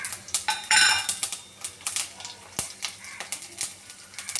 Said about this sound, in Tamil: இதில் வந்து நம்ம சேர்த்து வச்சுக்கிற மிளகு, சீரகம், காஞ்ச மிளகா எல்லாத்தையும் சேர்த்துப்போம்.